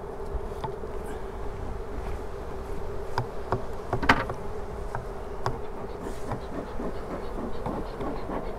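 Honeybees are brushed off a brood frame from a Langstroth hive, filling the air with a dense, close, continuous buzzing. Occasional sharp clicks and knocks cut through the steady drone.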